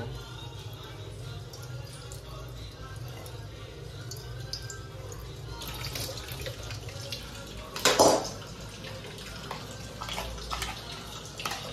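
Tap water runs steadily into a sink while utensils are washed, with a brief louder splash and clink midway, and a voice speaks quietly in the background.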